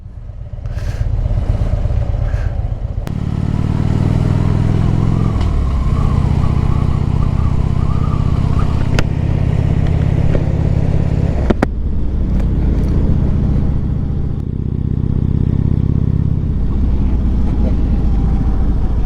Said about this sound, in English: There's a bike going up there now